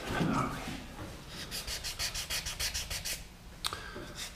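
Sandpaper rubbing on wood while finishing a pegged mortise joint, a steady run of about a dozen quick rhythmic scratching strokes, close and moderately quiet.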